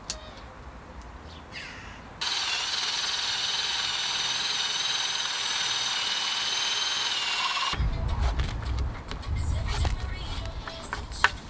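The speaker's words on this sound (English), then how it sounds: "So I'm going to drill those into the mortises" A power drill whines loudly and steadily for about five seconds while drilling into oak mortises, then cuts off, followed by someone talking nearby.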